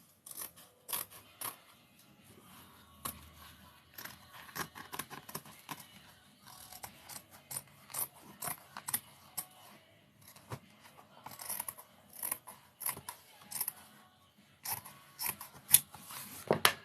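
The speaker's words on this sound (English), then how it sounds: "I'm going to go ahead and trim this edge but leave the other edges" Scissors snip repeatedly along the edge of a handmade fabric-covered book, crisp close cuts in irregular bursts with quiet pauses between.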